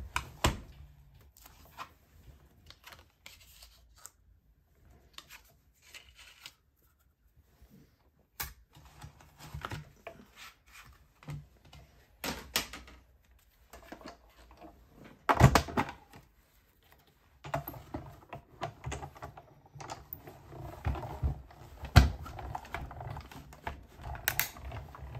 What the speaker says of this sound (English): we're going to run that through our Stampin' Cut and Emboss machine